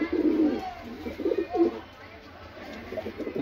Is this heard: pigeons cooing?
yes